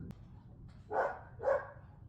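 Dogs bark twice in a row, two short, moderately distant woofs about half a second apart over a quiet background, preceded by a faint click.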